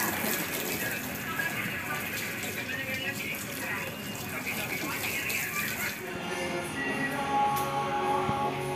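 Water splashing and spraying steadily while rinsing a Honda Sonic 150R motorcycle after shampooing, a continuous hiss of water with a voice talking over it.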